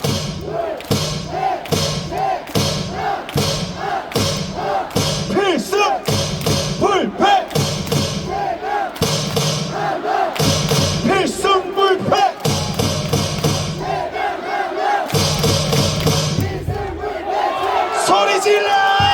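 Packed baseball stadium crowd at a Korean Series game clapping in tight unison and shouting a rhythmic cheer together, loud and close, with repeated bursts of synchronized claps and chants throughout.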